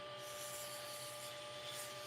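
A wood turning blank, a pen blank mounted on bushings, is sanded by hand with a soft, quiet, steady rubbing hiss that pulses in quick regular strokes, with a faint motor hum underneath and no talk.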